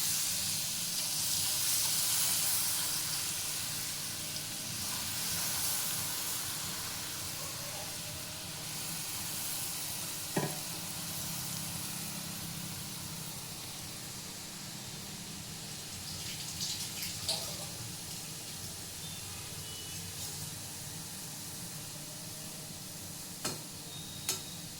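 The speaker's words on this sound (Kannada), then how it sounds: "ಇವಾಗ ಕಾದಿರುವಂಥ ಎಣ್ಣೆಗೆ ಹಿಟ್ಟನ್ನ ಬಿಡೋಣ" Batter dropped into hot oil for vada pav, a broad continuous hissing sizzle that stays fairly steady for the whole stretch, with a few small ticks and clinks over it.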